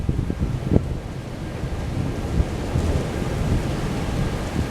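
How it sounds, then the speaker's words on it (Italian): Stormy weather roars steadily in Quartu and Cagliari, Sardinia: wind and rain rush over the microphone with deep low rumbles of thunder beneath, a few sharper thuds early on. "Il ritorno della tempesta."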